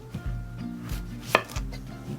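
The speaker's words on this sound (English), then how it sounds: "First thing we're going to do is dice up an onion" A knife dicing an onion on a cutting board, with a few steady, fairly close thudding chops of the blade, without talk.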